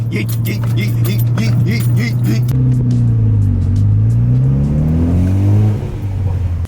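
A Mitsubishi Evo X engine pulls hard with a steady, loud drone that rises and dips in pitch as it revs through the gears, heard close from inside the car.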